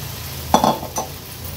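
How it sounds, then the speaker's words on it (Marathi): Barnyard millet dosa batter meets a hot pan over a high flame with a short burst of sizzle and a couple of scraping knocks from a utensil against a low background hum. "ह्याचा घावण टाकून घेणार आहोत आपण। घावण टाकताना गॅसची फ्लेम हायवर ठेवायची आहे आपल्याला।"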